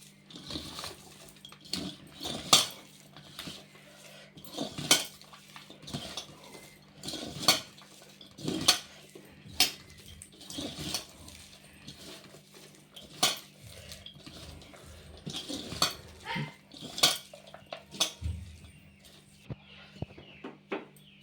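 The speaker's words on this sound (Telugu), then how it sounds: "ఇది కలుపుకుందాం ఇట్లా మంచిగా." A spoon mixes onion pakoda batter in a bowl, giving repeated sharp metallic clinks and scrapes in an irregular rhythm, close and clear, over a faint steady low hum.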